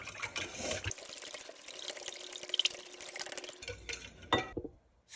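Sourdough starter is mixed into water in a bowl, making a soft, close, continuous wet swishing and sloshing with a few drips near the end.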